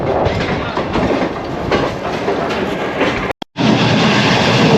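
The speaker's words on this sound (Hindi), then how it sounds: "ट्रेन दौड़ रही है खूबसूरत केलों के बागों में से" Shalimar Express passenger train running through banana orchards between Karachi and Nawabshah, a loud continuous rumble of wheels with a rhythmic clatter, briefly cut off near the end.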